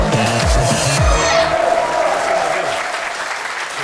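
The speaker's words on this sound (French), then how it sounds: "Applaudissements amplement mérités." Audience applause greets a priest guest arriving on a French talk show set, a dense burst of clapping that dominates from the start, with a voice running low underneath, then thins and fades toward the end.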